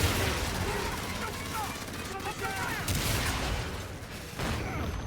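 Explosions and gunfire in the video game Call of Duty: Infinite Warfare, a dense, noisy barrage of bursts and booms at steady volume with a sharp blast near the end.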